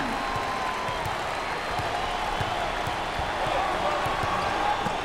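Packed basketball arena crowd during a Big XII tournament game between UCF and BYU, a steady roar of cheering with a ball bouncing rhythmically on the hardwood beneath it.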